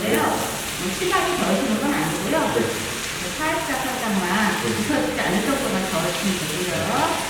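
Abalone stir-fried in a pan for a julienned potato stir-fry with onion and carrot, a steady close sizzle with stirring scrapes throughout.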